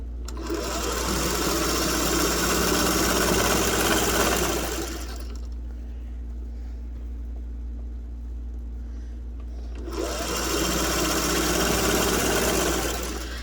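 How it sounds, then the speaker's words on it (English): Sewing machine stitching a cushion seam, a loud steady mechanical whir that runs for about five seconds, stops for a quiet pause, then starts again close by. "Let's sew this seam."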